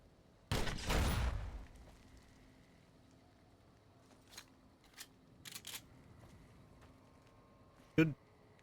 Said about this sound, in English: Actually, we'll use a grenade launcher.